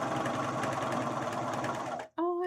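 A home sewing machine runs steadily for about two seconds while stitching parts of a Link costume from The Legend of Zelda: Twilight Princess, then stops abruptly before a brief voice begins.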